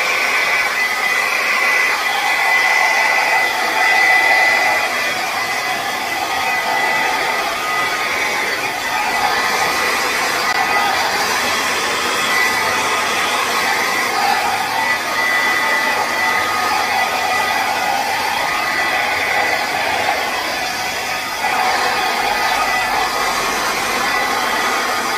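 Steady, loud rushing air from a blower pushing acrylic paint around a fluid pour, a continuous whoosh that holds nearly unchanged throughout with only slight dips.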